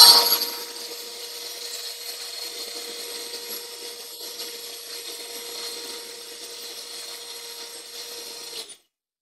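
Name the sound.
electric beater gently beating badam ice cream mixture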